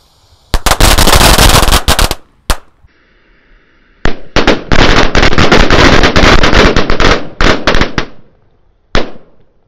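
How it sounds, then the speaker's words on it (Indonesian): A 100-count string of Celebration Red Cracker firecrackers going off outdoors, very loud rapid crackling bursts in long chains with short pauses between, then a final single bang. "Selanjutnya kita nyalakan ini ada mercon renteng ya. 100 tor. Celebration Red Cracker."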